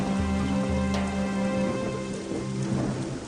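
Steady, heavy rain drums on the leaky roof of a broken-down hut, a continuous close wash of drops that runs the whole time beneath a low sustained musical drone, with no one talking.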